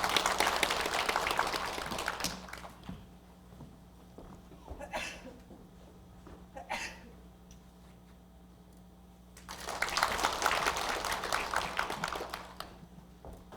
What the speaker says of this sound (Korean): 박수 좀 보내드립니다.